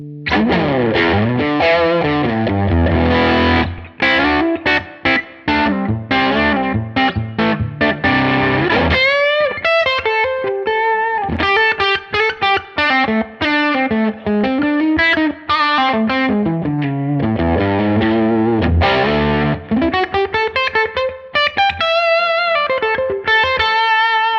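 A heavily distorted electric guitar riff, reamped through a British classic-style amp capture, plays continuously, thick and saturated, with sustained chords and quick melodic runs, loud and alone.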